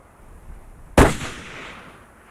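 A single sharp rifle shot cracks out during a moose hunt in Newfoundland, loud and sudden after quiet, trailing off in a short echoing decay.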